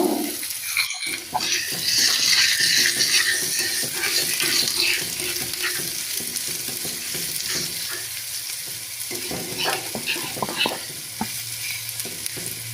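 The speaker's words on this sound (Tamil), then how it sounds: "கறிவேப்பிலை, வெங்காயம் இதெல்லாம் சேர்த்து நல்லா வதக்கிக்கோங்க" Curry leaves and onion sizzle and frying steadily in a hot pan as they are stirred, with scraping and clinking of the spoon against the pan throughout, close and fairly loud.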